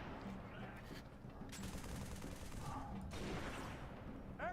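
Video game gunfire crackles in quick bursts, faint and distant behind a low game soundscape, with rapid rattling shots around the middle and a voice briefly heard.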